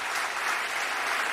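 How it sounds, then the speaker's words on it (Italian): Studio audience applause during a live Italian TV music broadcast, a dense, steady wash of clapping lasting a little over a second, fairly faint and with no voices over it. "Applausi, vai!"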